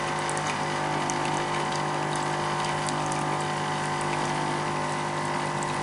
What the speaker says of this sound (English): The machine is going to need an initial prime, meaning the water has to go through the system to start with.